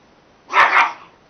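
A puppy gives a short double bark, two quick close yips running together, loud and alone with no talk.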